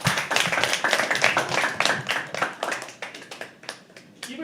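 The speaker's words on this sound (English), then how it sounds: "Keep the applause going for our next performer" Audience at a live poetry open mic clapping for the next performer, a small crowd of close, crisp handclaps that start dense and loud, then thin out and fade to a few scattered claps.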